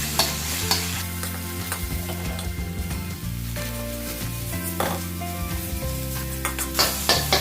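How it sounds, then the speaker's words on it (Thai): Northern Thai chili paste stir-fries in hot oil in a pan, with a steady close sizzle and repeated scraping and clinking strokes from the spatula, and no talking. "เอาน้ำพริกลงไปผัดเลยครับผัดให้หอมเลยนะฮะ"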